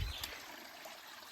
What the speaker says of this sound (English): Yet another day of filling up water with a little pipe.